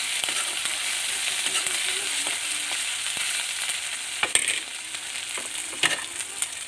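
Chopped tomato sizzles steadily in a pan for rajma, with the spatula scraping and clicking now and then as it is stirred. No one speaks.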